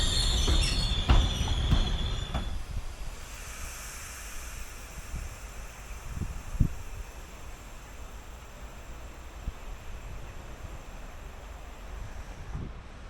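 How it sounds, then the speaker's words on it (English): A Hector Rail freight train pulls into a freight depot near Stockholm. Its wheels squeal sharply at first, then low rolling rumble and scattered clanks continue at a moderate distance. "this gave a good opportunity to watch this Hector-rail freight train pull into the nearby freight depot"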